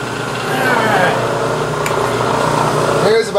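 A milling machine in back gear turns a slitting saw slowly at about 60 RPM, giving a steady mechanical hum with a low drone and a faint high whine throughout, at close range and with no talk.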